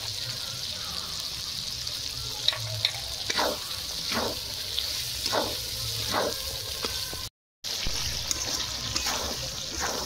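Cashews fry in a pan of oil for khichuri, giving a steady bright sizzle with scraping stirring strokes at a regular pace, close and moderately loud, cut by a brief dropout.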